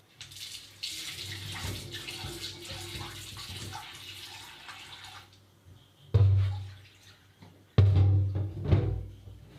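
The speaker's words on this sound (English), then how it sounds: "I'm going to wash and rinse it a couple of times to remove the rust" Running tap water splashes over a rusty cast iron skillet as it is washed and rinsed, a steady close stream that cuts off, then returns in two short loud gushes.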